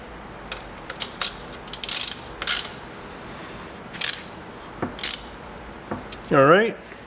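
Ratchet clicks in short bursts while a drain plug is tightened into a Dana 20 transfer case, a dozen or so dry mechanical clicks scattered across the moment, close and fairly loud, with a brief whining sound near the end.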